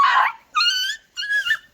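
A dog whimpers in three short, high whining cries separated by brief pauses, close and clear with no other sounds.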